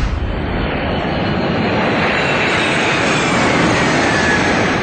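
A GE90-115B jet engine on a Boeing 747 flying test bed roars loud and steady, a dense continuous broadband rush with no breaks and no voices.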